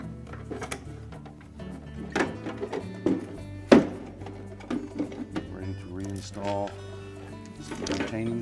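Plastic ice bin of a Whirlpool refrigerator sliding down over the ice auger drum assembly, with a few close knocks and clunks among background music-like tones and scraping.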